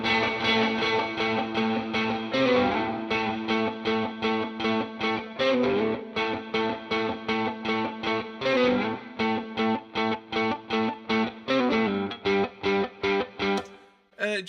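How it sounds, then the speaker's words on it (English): Distorted electric guitars play a chugging, rhythmic riff with steady palm-muted strokes and brief chord swells, with the left guitar sent to the right of the reverb and the right to the left. Loud and continuous, ending abruptly. "send the left guitar right in the reverb, and I'm going to do the opposite on the right"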